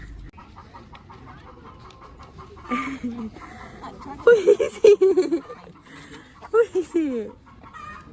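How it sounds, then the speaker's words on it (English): Roosters and chickens cluck and crow in a farmyard, a few loud calls rising after a quieter stretch, mixed with people talking nearby. "Can you hear the roosters?"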